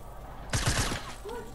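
A short burst of gunfire in Fortnite, three or four quick close shots in about half a second, sits among faint background voices.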